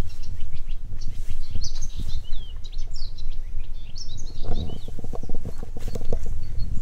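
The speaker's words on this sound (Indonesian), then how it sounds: "Suara burungnya ini berkicau di mana-mana" Birds chirping and singing all around in a forest, with repeated high tweets and trills over a low rustling background, fairly close and lively, with no one talking.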